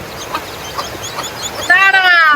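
A hen clucks and calls during heavy rain, with soft scattered clucks giving way to a loud, drawn-out, harmonic squawk near the end, close and prominent.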